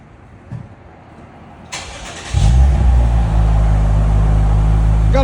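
A Lexus IS 350 with its 3.5L V6 and exhaust valves closed cranks and starts, then settles into a steady, fairly quiet low idle close by, with no talking.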